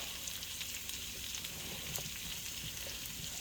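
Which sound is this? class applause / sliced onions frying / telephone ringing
sliced onions frying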